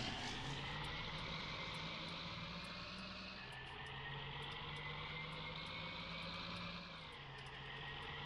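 Tractor engine in Farming Simulator 19 holding a steady drone, with clear pitch drops around each gear change as the revs dip and then climb again, fairly quiet and continuous.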